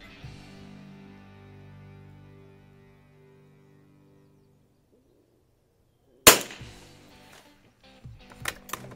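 A Marlin Model 2000L rifle fires a single sharp, loud shot during ammunition testing, following a lingering hum and a quiet pause, with fainter clanks and clicks after the report.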